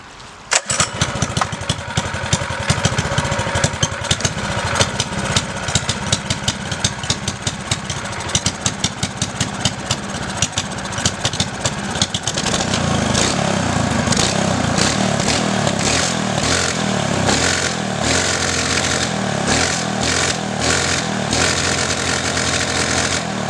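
Small go-kart engine revving loud and close after a bigger carburetor fuel jet is fitted, a raspy buzzing drone that rises and grows steadier and heavier about halfway through, with no talk.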